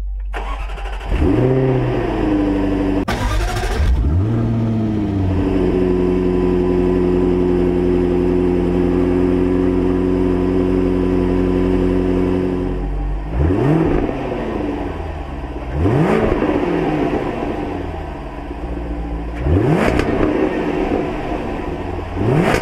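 A Jaguar F-Type R 75 with a 5.0 supercharged V8 starts up with a loud bark, settles into a steady rumbling idle, then gets several sharp throttle blips that rise and fall, each rev loud and close.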